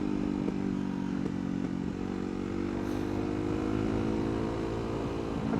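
A CCM Street Moto R supermoto motorcycle ridden on the road, its engine droning steadily and loud for the whole stretch, with wind rush and a little clatter, no talk.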